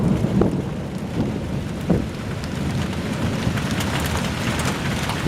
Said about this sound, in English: Rain's getting harder, obviously.